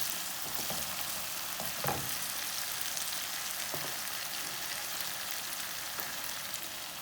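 Tomatoes cook in a hot pan with a steady, close sizzle that holds at an even level throughout, broken by a few faint stirring clicks.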